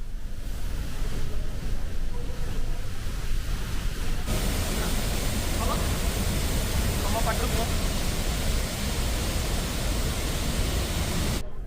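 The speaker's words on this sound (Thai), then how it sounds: "และนี่ก็คืออุโมงค์ด้านหลังของ Horseshoe Fall ครับ" Roar of Niagara's Horseshoe Falls heard from inside the tunnel behind the waterfall, a loud, steady broadband rush of falling water that grows denser and fuller partway through and continues without break.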